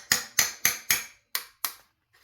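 A hammer drives a steel chisel to wedge a Dorman harmonic balancer off the crank of a 2013 Ford Edge 2.0: six sharp, ringing blows close by, four in a quick even rhythm, a pause, then two more.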